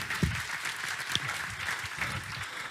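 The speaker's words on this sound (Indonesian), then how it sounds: "Boleh kita kasih aplaus buat Pak Billy." Audience applause for a man named Billy as he is invited up at a talk, a dense, steady patter of many hands clapping at moderate distance, with a few sharper claps standing out.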